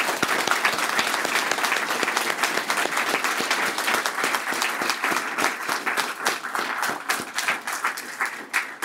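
Sustained applause from a crowd, steady dense clapping throughout with no talking, tapering slightly near the end.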